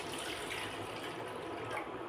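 A small amount of water is poured for dissolving sugar, a steady close splashing stream that runs without pause.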